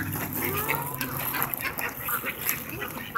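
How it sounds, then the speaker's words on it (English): Scattered duck quacks over a bed of outdoor lakeside noise at Lake Taneycomo, fairly faint and repeated at irregular intervals. "I'm gonna make the duck stop."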